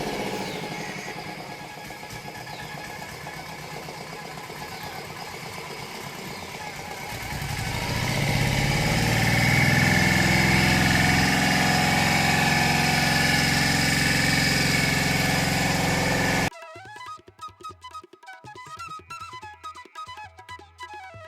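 A motor boat engine drones steadily, growing louder midway as it passes close, then cuts to a different, quieter scene near the end.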